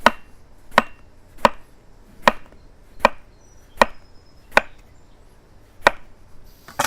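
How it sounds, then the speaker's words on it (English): A knife slices through an eggplant on a cutting board in sharp, evenly spaced chops, about eight in seven seconds, close and distinct, with no talk. "We're going to take our eggplant and we want to make some slices."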